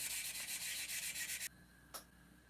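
Sandpaper scrubs a surface in fast, close, rhythmic back-and-forth strokes for about a second and a half, then stops, with one short faint scrape after the pause.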